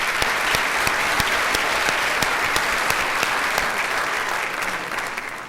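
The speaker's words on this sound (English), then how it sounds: "give yourself a round of applause" An audience at the Indiana's Junior Miss 2008 pageant applauds steadily, a dense, loud wash of clapping with sharp individual claps standing out, easing slightly toward the end.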